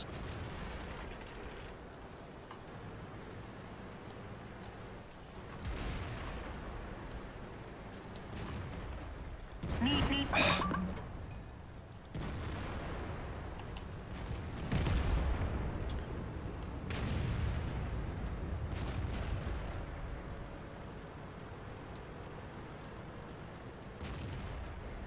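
Tank gunfire and explosions in the World of Tanks video game, with several heavy booms and blasts scattered through a rumbling battle soundscape, plus a sharp crackling burst near the middle, at moderate distance.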